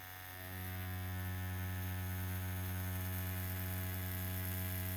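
A Dragonhawk Fold Pro rotary tattoo machine motor starts up and hums evenly, smooth and constant with a faint buzzy edge, no rattling, quiet and close.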